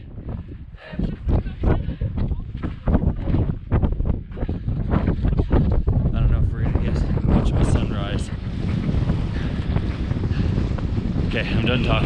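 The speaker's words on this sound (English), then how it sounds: "It's way too windy." Strong cold wind on the foggy summit climb of Acatenango volcano buffets the microphone in loud, roaring gusts, with a voice talking under the rumble at the start.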